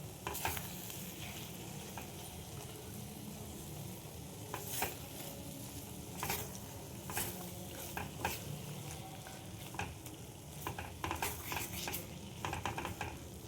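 Butter sizzling in a pan while garlic eggs cook over low heat makes a continuous soft frying crackle, broken by scattered clicks and scrapes of stirring utensils against the pan, with no one speaking.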